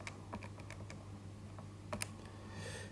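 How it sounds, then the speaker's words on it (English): Faint, close taps of keys being pressed on a calculator, scattered irregularly with a soft steady hum underneath. "So type that into your calculator."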